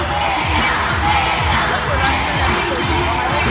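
A dense, loud concert crowd of fans cheers and shouts steadily for a performer during an on-stage game at an arena show, a continuous roar with no pauses.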